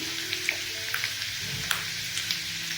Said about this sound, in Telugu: కొంచెం వేడైన తర్వాత ఉల్లిపాయలు వేస్తాము. కొంచెమే ఫ్రై అయితే చాలు